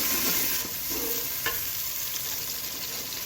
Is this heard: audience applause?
no